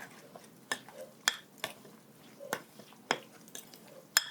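A spoon scrapes and clinks against a bowl while olive oil is mixed into a za'atar filling with dried mint and oregano, giving faint, irregular taps and stirring strokes close by.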